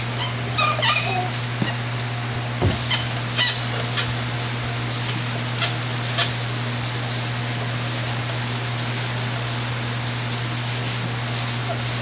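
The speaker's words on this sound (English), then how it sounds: "This is with a 320 grit sandpaper" Light scuffing strokes of 320 grit sandpaper across a boat's deck or hull before painting, soft repeated rasps over a constant low electrical hum, with a few faint yips or whimpers from a dog nearby.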